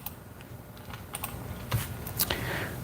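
Typing on a computer keyboard, a run of light, irregular key clicks close by, growing slightly busier toward the end, with no talk over it.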